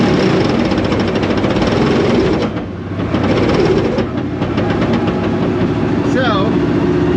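Broken early Ford Mustang engine running rough and loud, a steady mechanical drone with an uneven clattering pulse that briefly dips in the middle before resuming, with faint pitch-sliding whine near the end.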